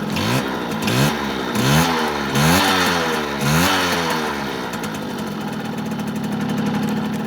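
A restored 1974 Yamaha FS1-E moped's two-stroke engine starts and blips through several loud, rising and falling revs before settling into a steady, buzzing idle close by.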